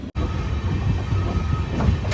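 A train pulls away from Cherthala station with a steady low rumble and faint rattling that stay close and even throughout the short stretch, with no talking.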